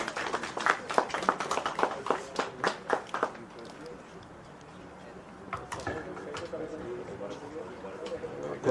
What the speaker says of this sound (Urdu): جی تالیاں ہونی چاہیے.